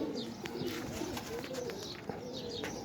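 High-flyer pigeons cooing outdoors at a loft, with soft repeated coos and faint chirps against a steady background hiss, moderately near and continuous.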